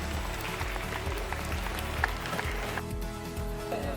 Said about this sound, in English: So give a big clap to each one of you for successful completion of your CCA activities.